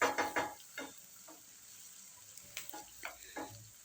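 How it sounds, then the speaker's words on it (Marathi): Paneer cubes with red chilli powder stir-fried in a pan over high flame, with a loud sizzle at the start and then softer frying hiss broken by intermittent scraping stir strokes. "अशा प्रकारे आपल्याला हाय फ्लेमवर याला 2 मिनटे छान परतून घ्यायचे आहे."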